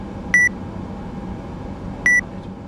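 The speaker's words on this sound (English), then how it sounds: "if you have an annoying beeping sound when you mute your microphone, it's this setting" Two short electronic beeps from the FS2Crew add-on in Microsoft Flight Simulator 2020's Asobo ATR, sounding as the microphone is muted and then unmuted, spaced about two seconds apart over a steady low cockpit hum.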